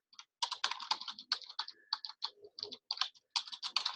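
Someone types a message on a computer keyboard with quick, uneven runs of clicking keystrokes, close and fairly quiet, separated by brief pauses and heard alone.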